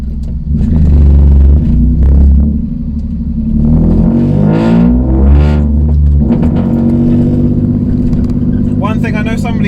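A stage 2 tuned 97bhp Toyota Aygo engine accelerates hard from close by with a loud, deep rumble, revving through rising and falling pulls with a gear-change dip in between. A voice is heard near the end.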